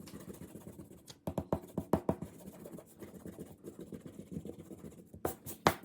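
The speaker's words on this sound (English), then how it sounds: "take your eraser and erase" Pencil eraser rubbing on drawing paper in short, brisk bursts of scratchy strokes, close and fairly quiet, with a few brief pauses and no talking.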